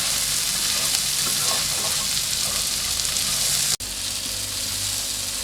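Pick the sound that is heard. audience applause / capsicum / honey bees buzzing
capsicum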